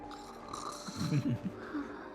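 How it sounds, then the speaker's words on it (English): Characters snoring in the video game Honkai: Star Rail, a few soft, rumbling breaths rising and falling over a steady game soundtrack. "Listen to them snoring."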